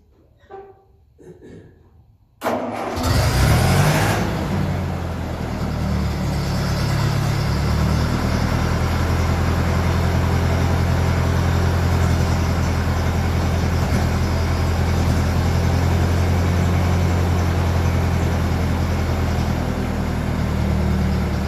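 The diesel engine of a Ferguson tractor fires up abruptly after a brief quiet moment, then settles into a loud, steady, rumbling idle that carries on without interruption.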